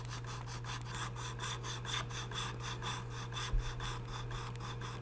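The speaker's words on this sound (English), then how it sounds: "Just gonna get rid of that mahogany with a rasp" Steady, repeated rasp and file strokes scrape mahogany off the neck of a 1965 Gretsch 6117 guitar, a close, even rhythm of about three strokes per second over a low constant hum.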